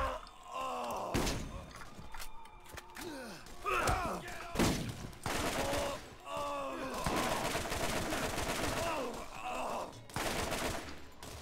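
Shotgun gunfire in Borderlands comes as a run of heavy bursts in a busy game mix, with grunts and thuds between the blasts and the sound staying fairly close.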